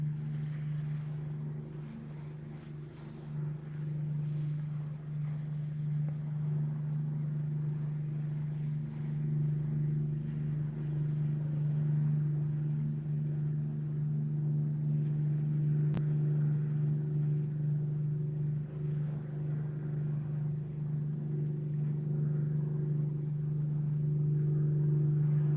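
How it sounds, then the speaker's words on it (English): A steady, throaty engine drone likened to a Spitfire aircraft engine holds a low, even pitch throughout, loud and close with wind buffeting, no talking. "Sounds like a Spitfire engine on that."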